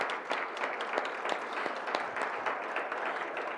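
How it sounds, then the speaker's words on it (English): Audience at a school district Hispanic Heritage Month celebration claps, a dense, moderately loud patter of many hands with some individual claps standing out, steady for several seconds. "a round of applause"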